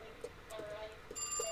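A telephone rings faintly in a room: short, thin electronic chirps repeat at an irregular pace, low in level under quiet background noise.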